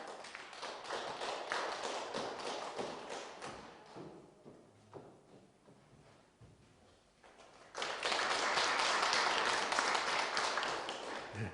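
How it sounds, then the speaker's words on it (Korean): A church congregation applauds at a Japanese-language worship service, clapping in two waves with a quieter lull between, the second burst swelling loud and dense. "우리 박수로 청해 주시기 바랍니다."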